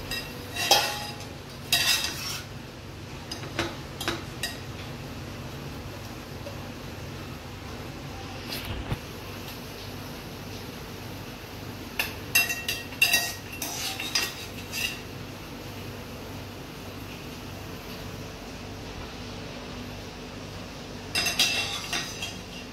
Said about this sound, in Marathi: तर बघू शकता कशी मॅगी काढली आता चम्मचने.